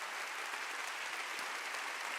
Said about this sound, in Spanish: Dale un fuerte aplauso a la gente que nos ve en casa